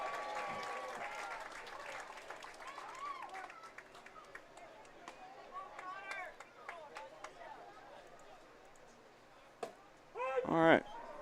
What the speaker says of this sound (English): Big round of applause to Lucas.